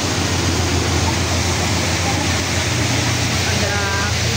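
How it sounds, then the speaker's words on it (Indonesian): A waterfall at a night safari park rushes with a dense, steady broadband hiss, continuous and fairly loud with no breaks, heard from a moving ride. "waterfall"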